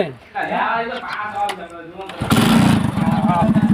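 A motorcycle engine starts up partway through, then keeps running with a close, loud, pulsing mid-pitched putter, while people talk before and over it.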